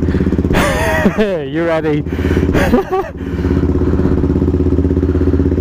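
A 125cc Aprilia Tuono or Benelli TNT motorcycle idles nearby with a steady, even thrum that runs throughout, while someone briefly speaks over it.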